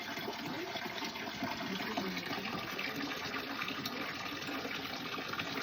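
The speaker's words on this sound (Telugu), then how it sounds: "ఇంత పెద్ద రాయి లోపల నుంచి వాటర్ వస్తున్నాయి అన్నమాట" Medicinal spring water pours steadily out of a large rock in the hills of Meghalaya, a continuous broadband rush and splash that stays close and even throughout with no pauses.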